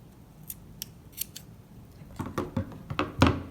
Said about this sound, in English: you can trim these loose threads with a pair of scissors